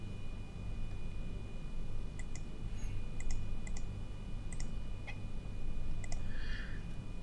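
Computer mouse clicks sound as a scattered run of sharp, light ticks, some in quick pairs, over a steady low hum in a quiet room, with no talk.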